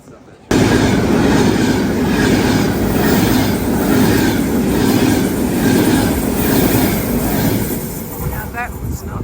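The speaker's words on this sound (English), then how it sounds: "That's how fast the trains go through these stations." A train speeds through a small Italian station, arriving suddenly with a loud, sustained rushing roar and rhythmic wheel clatter close by, easing slightly toward the end with a brief squeal.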